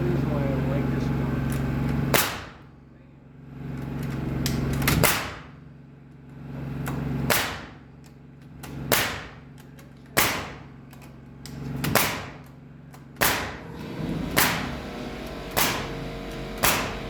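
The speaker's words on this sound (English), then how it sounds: "You're ready to shoot connector nails" A pneumatic nail gun fires connector nails on a construction job, roughly a dozen sharp loud cracks at irregular intervals, some followed by hissing air, over a humming compressor background.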